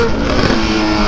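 Honda CB1000 motorcycle engine roaring loudly and close, a brief steady burst of dense engine noise with no voices over it.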